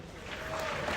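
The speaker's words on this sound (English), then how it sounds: "And clap it up for that." A live audience at Madison Square Garden claps in a dense, swelling wash of applause, brief and loud, with crowd noise mixed in.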